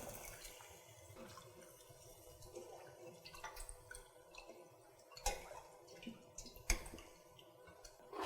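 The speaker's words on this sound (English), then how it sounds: "Then I add cold water." Cold water pouring onto prepared fish bones in a pot for stock, a steady splashing trickle with a few louder clinks and splashes near the end, heard close with no talking.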